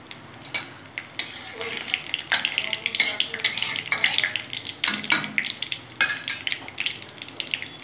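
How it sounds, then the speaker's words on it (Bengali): Two dry red chillies crackle and pop in hot mustard-oil tempering with black cumin for a vegetarian kakrol dish, a busy run of sharp close sizzling bursts with occasional stirring, no talk. "ফোড়নে দিলাম দুটো শুকনো লঙ্কা ফাটিয়ে দিয়ে দিলাম।"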